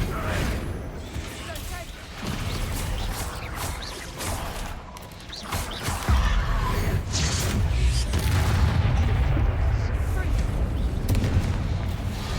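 Spell explosions from the Bombarda curse go off again and again in a Hogwarts Legacy mine battle, each one a heavy, booming blast. The bursts pile up amid continuous combat noise and the voices of players and characters.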